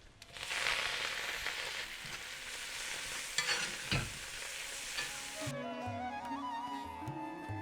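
Cumin seeds and chili sizzle in hot oil with hing during a tempering, a loud, dense frying hiss that stops abruptly near the end and gives way to soft background music.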